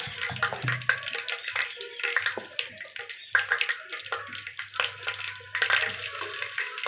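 Small Bombay ravva boorelu fry in hot oil, giving a close, steady sizzling crackle with irregular pops and no talking.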